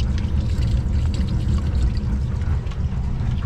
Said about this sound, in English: now again there's just water spilling everywhere